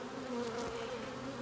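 Honeybees buzz in a busy, bustling beehive, a close, continuous droning hum of many insects with no voices over it.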